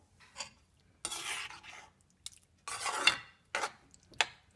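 A spoon clanks and scrapes in a pot as yogurt is mixed into hot cucumber kootu off the heat, coming in several separate bursts of stirring with quiet gaps between and no voices.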